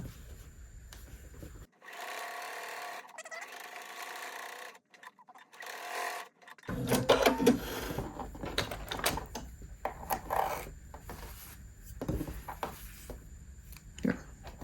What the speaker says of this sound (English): I can finish this outside seam. I'm going to overlap where I stop sewing a little bit.